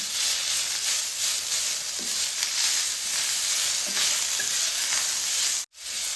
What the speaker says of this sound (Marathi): टोमॅटो आपल्याला मऊ होईपर्यंत भाजून घ्यायचे